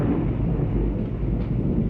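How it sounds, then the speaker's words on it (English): Storm thunder from the 1986 horror film Mutilations rolls as a steady, heavy low rumble with dense noise throughout, no distinct crack or break. "There's a bad storm building up out here."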